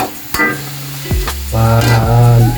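Sliced meat sautéing in a pan for a Filipino laing dish, with loud steady sizzling and a few sharp stirring scrapes and clinks of a utensil against the pan throughout.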